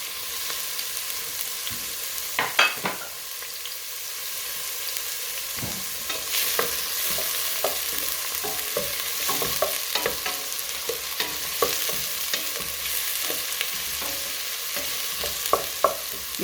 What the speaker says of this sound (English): So first I put my onions, then the garlic, and these can fry until a nice brown color.